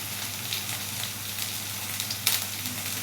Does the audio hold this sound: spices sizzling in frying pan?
yes